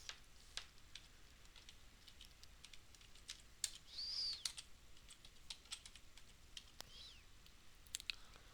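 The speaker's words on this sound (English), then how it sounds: "I'm just typing it in here." Quiet, irregular tapping of keys on a computer keyboard, with scattered soft clicks and no voices.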